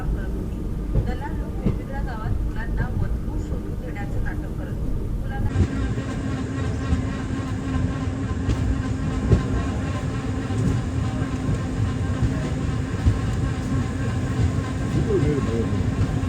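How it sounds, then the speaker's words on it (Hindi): Khandesh Express passenger train rolling slowly through Amalner station without stopping, a steady rumble of wheels and carriages with faint clatter throughout, voices and station chatter mixed in. "हमारी ट्रेन पहुंच चुकी है अमलनेर।"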